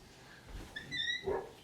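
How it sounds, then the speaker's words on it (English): A dog barks at people outside, giving a few short, moderately loud barks and yips in an indoor room, with no talking over them. "they like to taunt my dog. So she barks at them."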